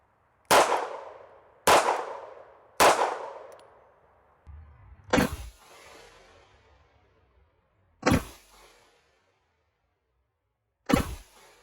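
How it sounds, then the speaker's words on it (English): A CZ75 SP01 pistol fires 115-grain full metal jacket 9mm rounds into a steel armor target, producing six loud, sharp clangs with ringing decays, irregularly spaced: three in quick succession, then three more with longer gaps. "next up, we're gonna hit it with a 9mm. We have 115 grain full metal jackets"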